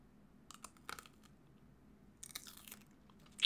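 Faint bites and crisp crunches of a Japanese KitKat come in a few short bursts: two early clusters, a louder run of crunching midway and a sharp snap at the end, with no talking.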